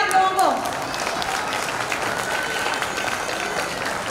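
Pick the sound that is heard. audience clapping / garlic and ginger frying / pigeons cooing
audience clapping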